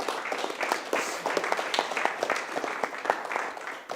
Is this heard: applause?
yes